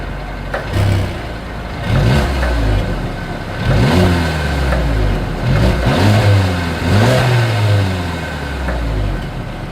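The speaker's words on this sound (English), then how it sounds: "As always, here is that exhaust clip." A 2022 Mercedes CLA 250 with dual exhaust blips its engine in a series of short, rhythmic revs, each rising and falling back to idle, heard close and clear without talking.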